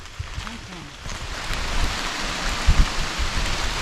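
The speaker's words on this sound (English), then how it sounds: "The rain has really started coming down hard." Heavy rain falls on a steep mountain trail on Sassafras Mountain along the Appalachian Trail, a dense steady hiss growing louder, with a few close thumps and some talking.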